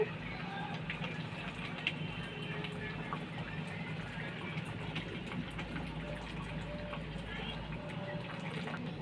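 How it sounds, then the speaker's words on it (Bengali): Hot water poured into a pot of cooked masoor lentils, a soft steady gushing fill that runs through the whole stretch at low level, with a voice talking faintly over it. "গরম জল দেবো"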